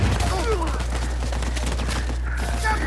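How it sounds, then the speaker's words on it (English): Gunfire rattles in dense, rapid bursts during an Uncharted 4 firefight, with a grenade blast mixed into the steady, loud clamor and a voice talking over the action. "Oh, that's a grenade."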